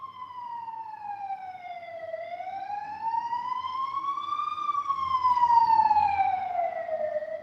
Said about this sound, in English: You see the ambulance?